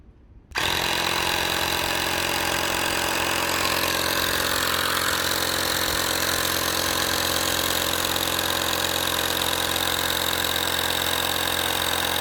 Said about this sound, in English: Overall guys, I'm impressed with the Winair pump.